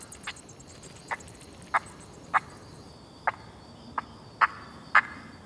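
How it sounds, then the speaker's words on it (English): Short, sharp chirping calls of a male bat repeat about every half second to a second, roughly eight in all, each a bright brief click heard against a faint steady outdoor hiss. "Now, that's the sound of a male bat."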